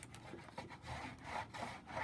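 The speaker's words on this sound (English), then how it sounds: "Let me squeegee a little bit more." Squeegee scraping across vinyl being pressed onto a home decor surface, a steady close rubbing and scraping in repeated strokes, with no talk.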